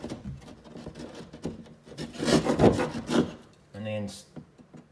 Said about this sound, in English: You just got to put your saw on an angle.